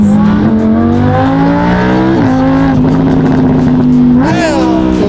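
Loud straight-piped exhaust from a barn find Ferrari under hard acceleration, the engine pitch rising, dropping sharply at two gear shifts, then climbing again.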